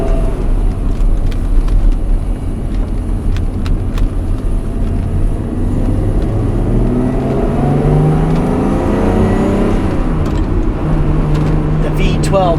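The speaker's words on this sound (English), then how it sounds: "The V12 engine is so iconic for that era of car. It just sounds amazing." A 1991 Ferrari Testarossa with its V12 engine accelerating, a loud rising engine note climbing through the gears over a steady road roar, with a voice talking at times.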